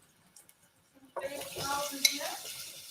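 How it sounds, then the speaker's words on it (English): Half an onion dropped into hot coconut oil in a pan, a sudden sizzle that starts after a few quiet clinks and continues steadily with crackling, fairly close. "So I've added some coconut oil and then my half onion."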